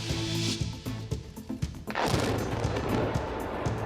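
Controlled demolition of the boiler at the Anllares thermal power plant in El Bierzo, 8,000 tonnes of structure: a series of sharp cracking blasts, then a heavy rumbling roar of collapse that carries on, booming and broad.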